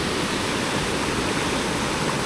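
A fast, deep river swollen by heavy rain in the Scottish Highlands, rushing as a loud, steady roar of churning water that fills the whole stretch without pause.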